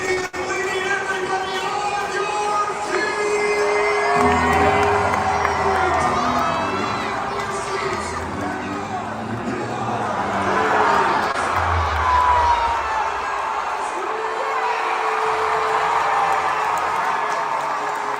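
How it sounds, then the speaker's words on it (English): Kids shout and cheer excitedly alongside a roaring stadium crowd after a Savannah Bananas walk-off win at Busch Stadium. The cheering is sustained and loud, with children's voices rising above the crowd noise. "My kids cheering like the Cardinals just won the World Series"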